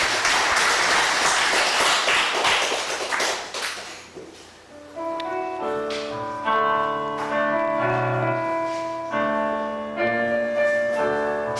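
A church congregation breaks into loud, dense applause for about four seconds, then the clapping fades as gentle instrumental music takes over.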